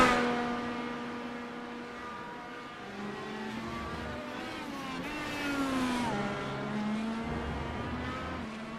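IndyCar engines race around Road America in the iRacing sim, with high-pitched engine notes rising and falling through gear changes as cars sweep through fast corners. The engines sound steady and fairly close, with no talking.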